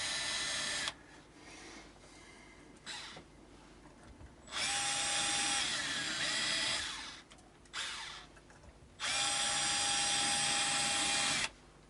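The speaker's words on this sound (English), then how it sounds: "I'm going to screw this back in" A powered screwdriver drives screws into a Squier Bullet hardtail Stratocaster guitar, giving two long whirring bursts and a few shorter ones, close and fairly loud against quiet room noise.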